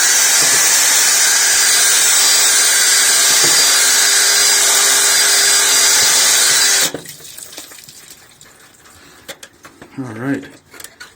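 A power drill runs loud and steady for about seven seconds while an ALCO S6 Model 320F turbocharger is drained, then cuts off abruptly, leaving faint clatter and brief voices.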